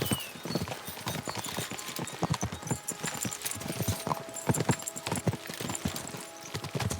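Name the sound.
horses galloping, from video game Kingdom Come Deliverance 2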